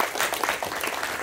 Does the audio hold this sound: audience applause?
yes